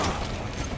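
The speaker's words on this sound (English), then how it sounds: "Setting mine." A mine being set down in Call of Duty, a brief close mechanical click and clatter.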